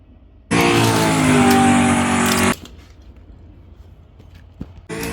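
Pickup trucks drag race at a drag strip, one of them a Studebaker, with a loud engine roaring past for about two seconds before it drops away and another roar starts at the end.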